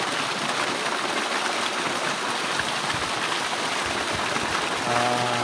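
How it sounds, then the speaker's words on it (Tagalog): Water gushing steadily from a solar irrigation pump on a farm, a loud continuous rushing splash close by, with a faint voice briefly near the end. "Solar pump."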